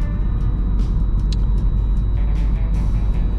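A 2014 Seat Leon ST estate with the 1.6 TDI 110 hp Ecomotive diesel, 247,000 km on it, driving along with a steady low engine and road rumble heard from inside the cabin, loud and constant.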